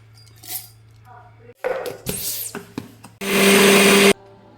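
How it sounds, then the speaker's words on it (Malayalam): A mixer grinder jar grinding roasted ginger and onion into a coarse powder for Onam ginger curry, with clinks of the jar being set, short pulses, then one loud sustained grind that stops abruptly. "ഇനി മൂപ്പിച്ച് വെച്ച ഇഞ്ചിയും ഈ ഉള്ളിയും കൂടെ എടുത്ത് നമുക്ക് ജാറിലോട്ടിട്ട് നല്ലതായിട്ട് പൊടിച്ചെടുക്കാം"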